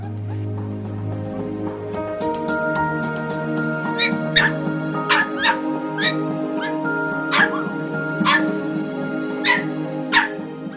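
Dogs at an abandoned-dog shelter in Utinja keep up a nearby chorus of sharp barks and yips over constant whining and whimpering, with repeated loud yelps standing out.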